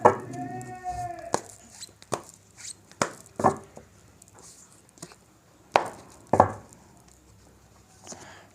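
Tarot cards are shuffled and drawn, giving a string of crisp taps and slaps as cards are laid down at irregular intervals, with soft rustling in between at close range.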